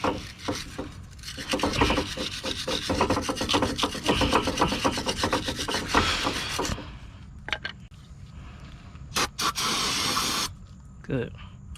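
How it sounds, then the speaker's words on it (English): A wire brush scrubs parts of a 2015-2019 Subaru Legacy front brake caliper, rasping in fast repeated strokes for several seconds. Shorter separate scrapes follow after a pause. "Now, I'm just going to clean this up with a wire brush."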